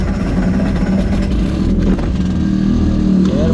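An HM CRE scooter engine runs loudly and steadily close by after the ignition is switched on, a continuous low rumble with a slight rise in revs toward the end.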